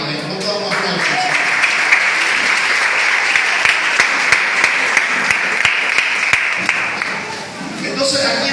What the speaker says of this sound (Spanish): ¿Cómo te damos aplausos?